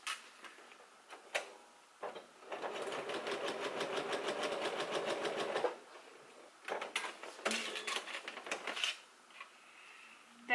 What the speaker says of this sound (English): we can sew this together.